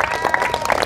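A church congregation gives a short burst of scattered, fairly close hand claps that overlap unevenly during a sermon.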